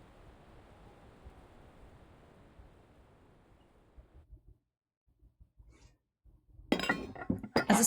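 Glass liquor jars clink and pots and pans clatter in the video game Reverse: 1999, arriving as a loud, dense burst near the end after a soft wash of noise and a near-silent stretch.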